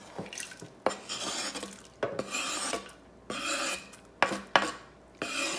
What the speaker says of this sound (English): Let's slide our chopped onions in here.